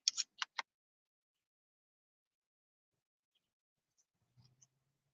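Scissors snipping small scraps of fabric for a chindi rug, three crisp close snips in quick succession, then near silence with a faint rustle.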